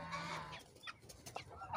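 Chickens cluck and squabble briefly over a spot, a few short sharp squawks and clucks close by, with a faint rooster-like call.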